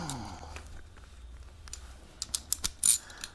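A ratchet cracks loose the front brake caliper bolts on a 2014 Kawasaki ZX10R, giving a short run of sharp metallic clicks and snaps late in the clip, close and fairly loud over quiet workshop background.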